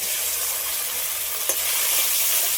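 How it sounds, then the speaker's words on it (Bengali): Rohu fish and kohlrabi fry in oil with ginger and dried red chili paste, salt and turmeric, producing a loud, continuous close-up sizzle with one faint utensil tap midway. "সবগুলো একসাথে ভালো করে কষিয়ে নেব।"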